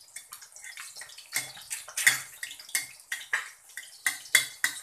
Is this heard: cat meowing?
no